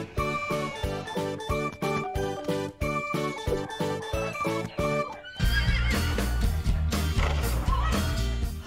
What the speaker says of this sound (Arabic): هذا حصان.